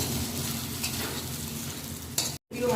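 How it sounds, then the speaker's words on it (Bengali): A spice mixture stirred and fried in a pan while making a sweet, sour and hot Bengali pickle of bilati amra (hog plum), a steady close sizzle with scraping stir strokes, with no talking, briefly cut off near the end. "একটু হালকা ভেজে নেবে তারপর মিশিয়ে একসঙ্গে আবার কষাবো আবার একসঙ্গে কষাবো"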